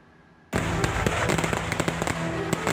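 Firecrackers tied to a hot-air balloon in Jambon, Ponorogo, East Java burst in a loud, dense crackling volley that starts abruptly and continues as a rapid string of sharp pops.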